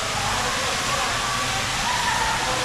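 A waterfall at Blizzard Beach water park pours in a steady, loud, close broadband rush that fills the whole stretch without pause.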